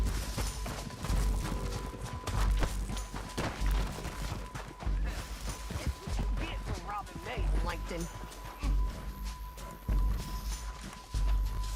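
Horses in Red Dead Redemption 2 clop along in irregular hoofbeats, mixed with scuffles, thuds and game effects, while voices speak over the action.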